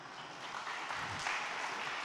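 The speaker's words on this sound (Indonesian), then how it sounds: "Boleh minta tepuk tangan sekali lagi ya Allah." Stand-up comedy audience applauding again for a comic on a competition stage, a steady mass of clapping throughout, heard from a distance at moderate level.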